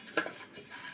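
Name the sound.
spices mixed together in a bowl with a spoon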